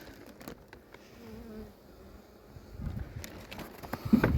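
Honeybee colonies sitting in their hives in winter, a soft continuous buzzing hum heard close up, swelling slightly louder toward the end.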